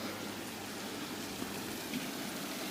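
Rain falling at a riverside holiday base on the Dniester, a soft, even patter heard at low level with no voices.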